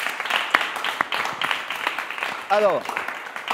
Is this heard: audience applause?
yes